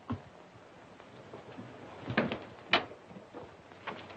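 A house door opening with a few soft wooden knocks and clunks, then a sharper bang of the door moving, quiet and close in a domestic interior with no voices.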